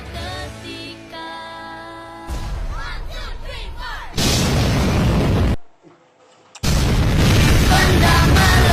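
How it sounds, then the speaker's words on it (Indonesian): Loud booming blasts of an explosion in a dramatic film soundtrack about the Hiroshima and Nagasaki bombings, with rumbling bursts, a sudden brief silence, then another heavy roar. "benda meledak."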